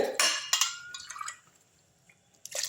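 Water is poured from a tumbler into a cooking pot while making Maggi noodles, giving a couple of short splashing, clinking bursts followed by quiet drips, with a brief final splash at the end.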